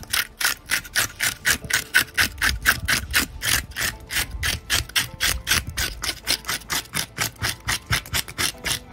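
A California sheephead is scraped with an inexpensive handheld scaling tool, producing a steady run of rapid, evenly spaced rasping strokes, close and fairly loud, roughly two per second without a break and with no talking.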